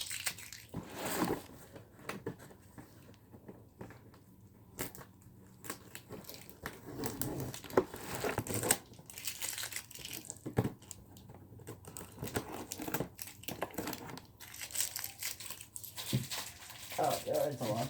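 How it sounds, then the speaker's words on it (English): Packing tape is ripped off a cardboard repair box in a run of sharp, crackling tears and crinkles, close and fairly loud, with brief pauses between pulls. "Oh, there's a lot of tape."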